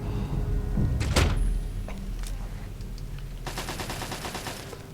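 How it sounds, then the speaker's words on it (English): Automated turret fire and feral ghoul noises inside the Museum of History in Fallout 3: sharp gunshot-like bursts near the start, then a rapid rattling machine-gun stutter over the last second and a half, with a low rumbling room tone throughout. "So in here we got turrets and feral ghouls. That's what you're hearing."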